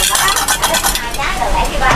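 Potatoes frying in a pan, a loud bright sizzle with stirring and scraping noises that swell and ebb throughout.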